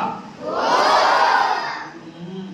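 A crowd of young children at a reading-festival library exhibition in Kandhar shouts excitedly together, a loud sustained collective roar that swells and then fades, with no one speaking over it.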